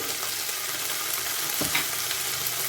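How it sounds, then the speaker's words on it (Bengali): Nigella seeds and ginger paste frying in hot oil in a kadai, a loud dense continuous sizzle with a faint stirring knock partway through, close by and without any talking. "তেল গরম হয়ে গেছে, এতে কালো জিরে ফোড়ন দিয়ে নেব"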